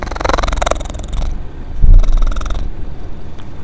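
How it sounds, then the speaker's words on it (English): A cat purrs close by, a steady low rumbling throb that continues throughout, loud and alone with no talking over it. "Cat purring in the background."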